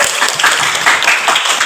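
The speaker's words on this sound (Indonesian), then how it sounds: "Ya, tepuk tangan semua." A school class claps together in a short burst of dense, loud, close applause with uneven rhythmic pulses, cutting off abruptly.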